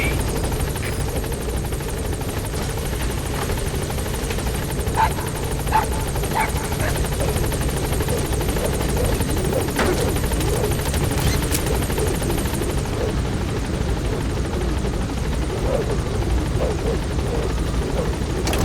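Helicopter from the game Metal Gear Solid V arriving at a landing zone and lifting off again, a steady loud rotor drone with engine whine throughout, brief radio-style voice chatter over it, and a dog barking faintly at moments.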